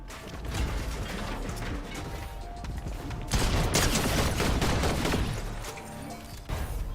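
Shotgun blasts in an online first-person shooter, with loud, dense broadband gunfire and mechanical clatter filling the scene in two sustained stretches.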